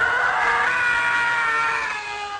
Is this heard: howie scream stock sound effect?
yes